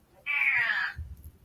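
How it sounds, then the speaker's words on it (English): A domestic cat lets out a single clear, drawn-out meow close to the microphone, followed by a soft low rumble and no talking. "Is that your cat?"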